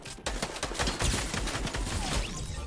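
A sniper rifle shot in a shooter video game, heard as a loud sharp blast followed by dense crackling bursts and debris-like noise that fill the whole short stretch.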